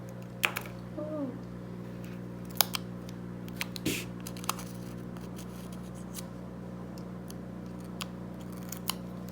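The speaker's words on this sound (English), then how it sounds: "then trim away the excess tape." Scissors snip away excess tape in a quiet craft setting, a handful of sharp, separate cuts scattered over a low steady background hum.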